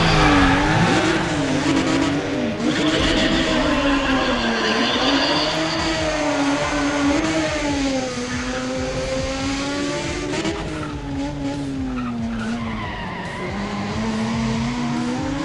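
A Mazda RX-8 races in Need for Speed ProStreet, its rotary engine revving up and down constantly with sustained tire squeal and skidding, loud and steady throughout.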